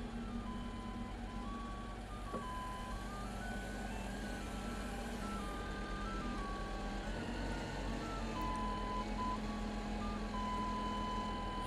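A forklift reverses out of a pallet rack, its reversing beeper sounding in repeated electronic tones over a constant low engine rumble, close and steady throughout.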